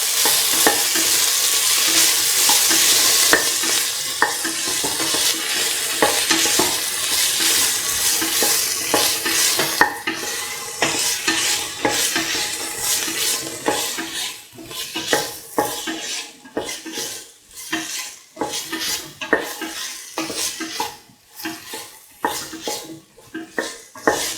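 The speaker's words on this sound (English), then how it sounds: "Salt and mix the tomatoes and the green chilies together with the rest of the mixture." Beef mixture with tomatoes and green chilies being stirred in a frying pan for a beef, tomato and coconut milk rice dish, a spoon repeatedly scraping and clinking against the pan over a steady sizzle, with no talking.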